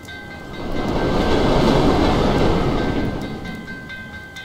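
A train in the video game Assassin's Creed Chronicles Russia rumbles past, a loud broad roar that swells to a peak midway and then slowly fades, with no voices.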